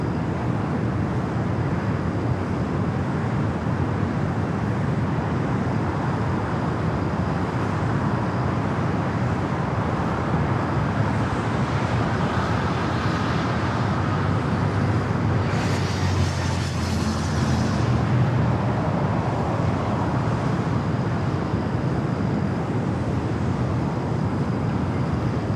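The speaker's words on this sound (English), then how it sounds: "I got that United A320 heading to SFO and next departure here on the south side" A United Airbus A320 departing LAX's south side, a distant broad roar of jet engines blended with airport and road background, steady and sustained with a slight swell midway.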